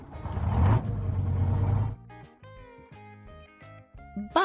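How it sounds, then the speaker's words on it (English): A bus rumbles loudly with engine noise for about two seconds, then beeping tones and music take over, ending with a brief burst of sound. "Bus."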